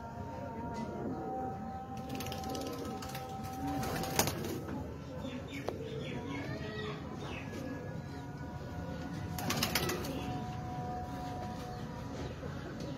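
Rare Sialkoti pigeons coo softly amid a bustle of wing flaps and rustling, with faint bird sounds continuing throughout a fairly quiet stretch.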